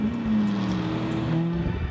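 Tanner Foust's 900HP V8 Volkswagen Passat drift car running steadily, a deep droning engine note holding nearly constant with a slight dip, heard close and fairly loud on its own.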